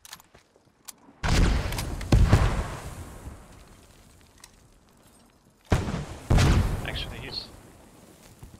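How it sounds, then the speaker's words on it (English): Mortar shells exploding in the WW2 video game Post Scriptum: two heavy, booming blasts a few seconds apart, each a deep rumbling burst with a trailing echo, followed by brief faint background noise. "Are those our mortars? Who's dropping on their heads on the church?"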